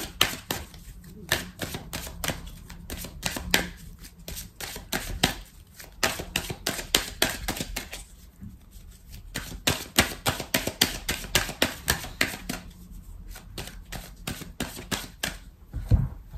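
Tarot cards, a Persian tarot deck, being shuffled and drawn, a dense run of quick riffling snaps and flicks in close, steady bursts with brief pauses between, and no talk.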